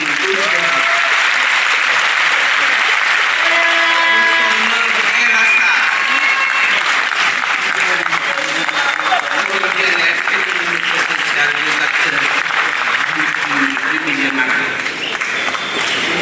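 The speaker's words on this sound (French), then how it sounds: "je voudrais inviter la salle à acclamer le ministre de la Pêche et de l'Économie maritime" A hall audience at an International Day of the Seafarer ceremony applauds the fisheries and maritime economy minister with steady, sustained clapping that lasts throughout at full loudness, with faint voices beneath.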